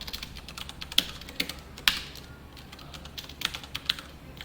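Someone types on a computer keyboard in light, uneven clusters of close keystrokes, fairly faint over a steady low hum, with no talk.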